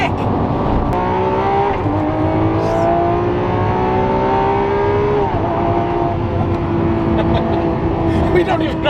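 A 1,400 hp twin-turbo Lamborghini SVJ built by Underground Racing drops a gear, then surges with a rising, sustained engine howl, its pitch climbing in long sweeps during a top-speed run under police and helicopter escort; occupants talk over it.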